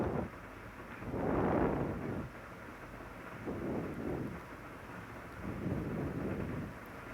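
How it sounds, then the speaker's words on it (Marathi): Rain falls outside under a steady soft wash, broken by three rolling low rumbles that swell and fade several seconds apart, with no voices present. "बाहेर छान पाऊस पडतोय."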